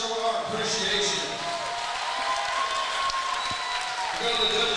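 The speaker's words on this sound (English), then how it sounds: "Let's give a round of applause, show our appreciation." Crowd applause fills an arena at a fighting championship event, a loud sustained wash of clapping and cheering that holds steady from start to finish, with no distinct voice standing out.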